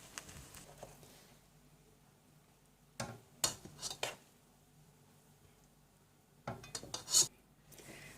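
Sindhi biryani being dished out of a cooking pot, with scraping and rubbing of a metal spoon against the pot in two short clusters, fairly faint and close amid quiet pauses.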